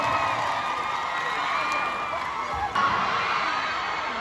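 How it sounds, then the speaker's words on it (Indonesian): Crowd at a fan meeting in Jakarta cheering and clapping, a steady dense roar with high shouts and whoops throughout, fairly close and continuous. "Kita kasih tepuk tangan"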